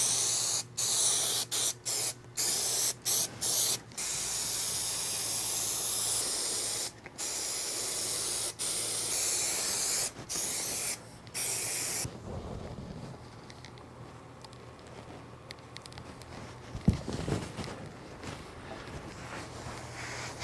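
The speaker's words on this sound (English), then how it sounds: "start spraying more glue over here" Bursts of aerosol adhesive spray hiss in short repeated blasts while re-skinning an Alcantara car headliner, then one long steady spray that stops abruptly, leaving quieter rustling and handling noise.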